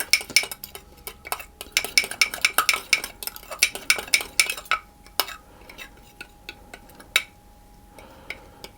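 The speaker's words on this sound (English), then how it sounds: "I'm going to put that in with my milk and stir it around" Spoon stirring mixed spice into milk in a bowl for mini Christmas cakes, a rapid run of close metallic clinks and scrapes against the bowl that thins out into sparser taps toward the end.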